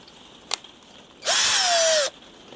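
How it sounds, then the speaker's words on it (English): A handheld power drill bores holes for mounting a Raw ONE Blades frame: a short click, then a loud, steady whine of just under a second with the motor pitch slowly falling before it cuts off. "you want to make sure that you're drilling down straight"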